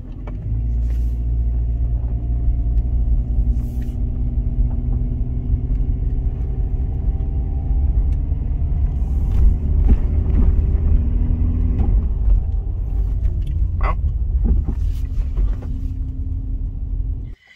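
A Subaru Outback XT with a swapped EJ20X engine drives uphill, its cabin-heard engine a steady low drone and rumble that shifts tone slightly partway through.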